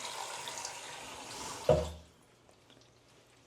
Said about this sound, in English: let's turn the water on, and we shall wait and see if this catches water